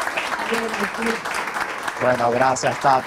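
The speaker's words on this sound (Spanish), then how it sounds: "Te despedimos con un fuerte aplauso" A burst of clapping from a cooking-competition audience is heard briefly while someone speaks, with more talking following as the applause fades.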